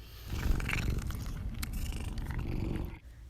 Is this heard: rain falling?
no